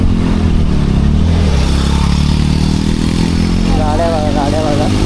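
Motorcycles, superbikes on the road, rumbling and revving loud and close in a continuous engine drone, with people talking over them.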